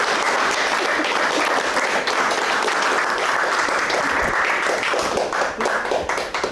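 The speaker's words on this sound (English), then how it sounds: "So, now you can clap." An audience applauding at a live podcast recording, dense sustained clapping at full loudness that thins slightly toward the end.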